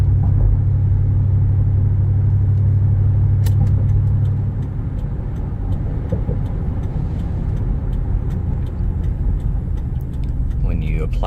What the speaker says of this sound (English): The alignment, hands off the wheel, truck's driving nice and straight